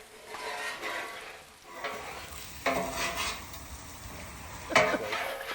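Garlic being stirred into mushroom ravioli with goat cheese on a Blackstone griddle, a steady scraping and soft sizzle with a few louder clanks of a utensil, fairly close and with no talk over it.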